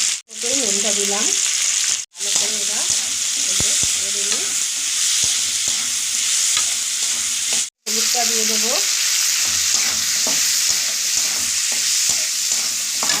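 Chopped tomato tipped into a hot pan of frying ghugni, a loud continuous sizzle with a few short breaks, spatula scrapes and stirring clatter sounding over it.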